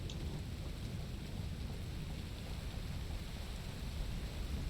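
Steady rainfall in the factory-building video game Satisfactory, a continuous dense hiss with a low rumbling undertone, holding even and fairly faint throughout without any voices.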